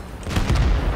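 A tank explosion in World of Tanks as an enemy vehicle, fired on from a Centurion Action X, is destroyed: a rumbling boom that swells and holds for about a second, loud and close.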